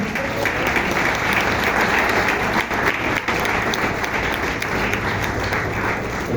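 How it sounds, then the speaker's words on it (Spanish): Sustained, dense applause from a church congregation honoring the Lord, loud and steady throughout with no pause. "Denle un aplauso al Señor."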